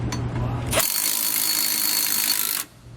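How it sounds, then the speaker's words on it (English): A power tool with a 9/16 socket runs tightening nuts on carriage bolts for helper springs on a travel trailer, a loud continuous whirring burst of about two seconds that then stops abruptly. "I'm going to come back with a 9/16 socket and tighten up all the nuts."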